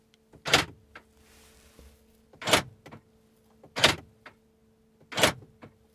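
Door closing mechanism on a 2020 Mercedes G63 AMG, with four loud, sharp mechanical clunks spaced a second or two apart, each a brief whirring snap like a gun being loaded, heard up close with no talking.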